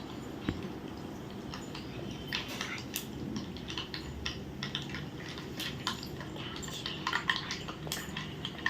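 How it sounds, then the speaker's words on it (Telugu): A dry red chilli and tempering spices sizzle and crackle in a pan while being stirred, with steady frying hiss and scattered light scraping and clinking of a utensil against the pan throughout. "తాలింపు దినుసులు ఏగుతూ ఉన్నాయి."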